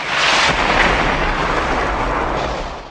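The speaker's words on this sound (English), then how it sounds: "Chester chucked a grenade that busted through the wall." A grenade explosion bursts through a wall, a heavy, roaring blast filling the whole clip, a dense rumbling burst that swells at once and slowly fades over a few seconds.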